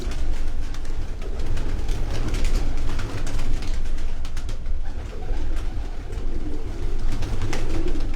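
Pigeons cooing close by in a loft, repeated throaty coos overlapping one another at a loud, steady level with no one speaking.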